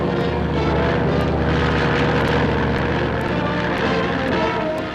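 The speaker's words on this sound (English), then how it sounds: "The roar of the engine drives the coyotes out of their lairs" A propeller aircraft used for hunting coyotes from the air over snowbound country roars loud and steady, its engine drone filling the scene without pause.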